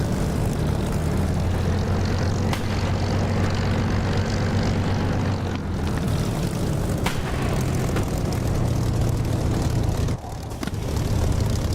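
A Spitfire's piston engine roars at high power during takeoff in the DCS flight simulator, a loud, steady propeller drone with low throbbing tones that shift slightly as the aircraft accelerates.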